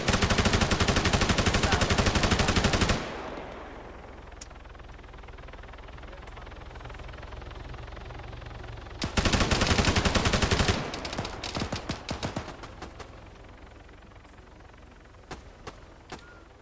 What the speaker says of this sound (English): Wherever I see movement, I'm firing.